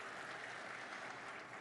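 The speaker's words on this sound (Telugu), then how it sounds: "ఒకసారి మన ఎండి గారికి గట్టిగా చప్పట్లండి" Steady applause from an audience at a rail coach factory inauguration, honouring the managing director, a continuous even wash of many hands clapping, heard at a distance.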